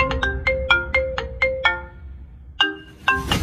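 A mobile phone rings loudly nearby with a bright, melodic ringtone. A quick run of chiming notes pauses briefly and then starts again, with no speech over it.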